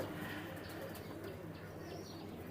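Teddy pigeons kept in a loft, cooing faintly through a steady hiss of background noise, with a few soft chirps and a brief flutter of wings.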